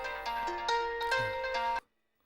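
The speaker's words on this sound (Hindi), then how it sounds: "एक मिनट रुक जा, फोन आया।" A mobile phone ringtone plays a bright, steady melodic tune of repeated tones for nearly two seconds, close and clear, then cuts off abruptly into silence.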